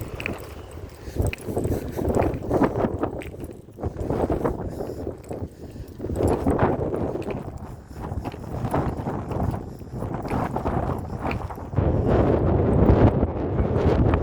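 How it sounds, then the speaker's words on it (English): Gusty wind buffets the microphone in loud, uneven surges, rising and falling with a low roar throughout. "The wind is blowing."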